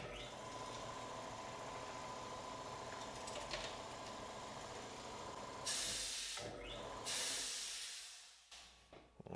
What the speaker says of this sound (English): my air compressor turns on right in the middle of me talking